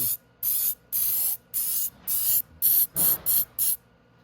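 Carb cleaner sprays from an aerosol can onto a motorcycle part during a stator replacement on a 250cc Venom x22R. There are nine short, sharp hissing bursts in an uneven rhythm, loud and close, with quiet gaps between them.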